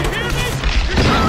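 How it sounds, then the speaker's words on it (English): Sudden explosion in the video game Tomb Raider 2013, a loud, dense crashing blast that rolls on through the whole short moment, with a voice speaking over it. "I shot that guy right in the fucking head and all of a sudden a random explosion"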